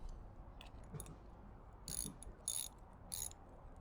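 A wrench loosens the nut on a flush-head climbing sleeve bolt whose hanger has been pull-tested, giving three or four short metallic ratcheting clicks over a quiet, faint background.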